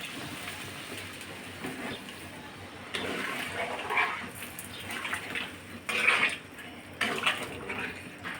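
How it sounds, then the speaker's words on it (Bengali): Water splashes into a pan of potatoes and pointed gourd in a home kitchen, pouring in several uneven bursts of running and sloshing. "ভালো করে মিশিয়ে এসে আমি এখন জল দিয়ে দেবো"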